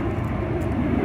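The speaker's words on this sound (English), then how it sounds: "F-18 Hornet." Two F-18 Hornet jets pass overhead at Pearl Harbor, a broad, heavy roaring rumble that holds steady through the moment with no speech.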